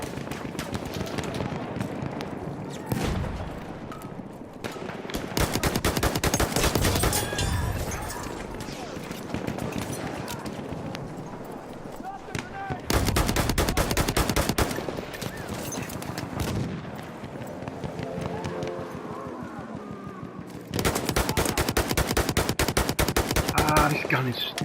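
Battlefield 1 gunfire on PS4: several long bursts of rapid automatic fire, loud and close, separated by quieter stretches of game ambience and scattered shots.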